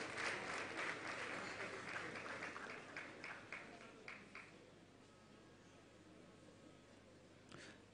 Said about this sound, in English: Come on, clap, celebrate,